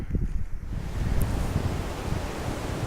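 Strong, cold wind roars steadily across an open hiking route along a rough logging-truck road, a dense broadband rush with low gusty buffeting against the microphone, continuous for the whole stretch with no voices.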